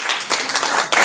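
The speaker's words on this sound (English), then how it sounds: "Please a round of applause." Brief burst of audience applause at a mining industry conference in Cape Town, close and fairly loud, with scattered hand claps spiking through the wash for about a second.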